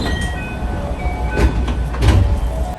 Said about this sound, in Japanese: ほどなくして花店駅に到着。